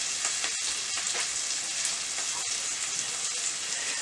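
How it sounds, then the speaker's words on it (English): Chicken livers sizzle in a frying pan, a steady bright crackling hiss with small pops and a few quiet clicks of stirring, heard alone and at moderate closeness. "While they're sizzling, I'm going to get myself a glass of wine."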